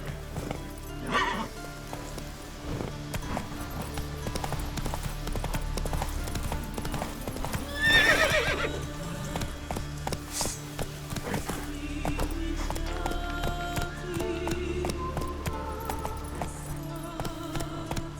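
A horse gallops in The Witcher 3 video game, steady hoofbeats pounding throughout with a loud neigh midway, set against ambient wind and music-like drones.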